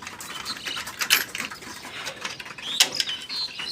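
Pigeons flap their wings in quick fluttering bursts nearby, with scattered soft rustles and pattering between flurries.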